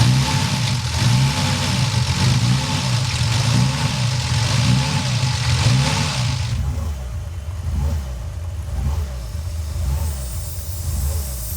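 A rebuilt BMW E36 325i's M54B30 straight-six idles unevenly with a rough, continuous, close rumble that wavers and drops slightly partway through, with no voices.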